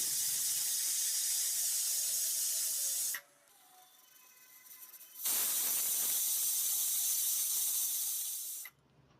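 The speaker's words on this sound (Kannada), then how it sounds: "ಸುಮಾರು ಎರಡರಿಂದ ಮೂರು ವಿಷಲ್ ಬರೋವರೆಗೂ ಬೇಯಿಸ್ಕೊಂಡಿದ್ದೀನಿ" A pressure cooker on the stove releasing steam, two long loud bright hissing whistles separated by a short quieter pause, close and steady.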